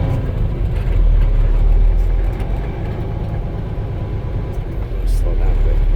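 A T800 car pulls away in first gear, its engine a loud, steady low drone heard from inside the cabin with a voice talking over it.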